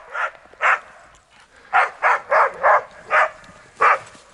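Dog barking outdoors on a ski trail, seven or eight sharp separate barks in an irregular rhythm, fairly close and clear against a quiet background.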